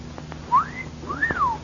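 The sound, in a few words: person whistling, radio drama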